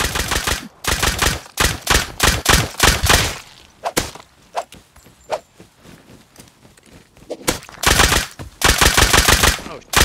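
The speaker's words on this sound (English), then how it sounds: "There's a dude coming with a nail gun." Rapid bursts of nail gun fire in a video game, loud and close, coming in quick clusters at the start and again near the end with a quieter gap between.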